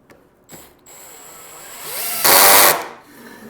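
A power drill drives pocket screws into clamped wooden boards for a window seat toy box, giving a few short whirring bursts that build to one louder, sustained run near the end.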